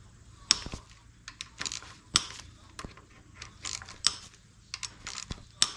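A ratchet wrench turns over a Nissan 300ZX engine that has a leaky cam seal, giving a series of sharp irregular clicks and ratcheting bursts close by over a low hum.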